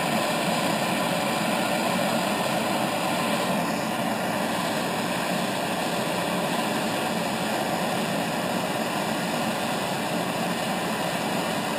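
A propane torch roars steadily while heating an engine oil drain plug in a workshop, a constant loud broadband hiss with no talk over it.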